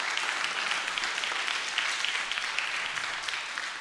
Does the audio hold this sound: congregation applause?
yes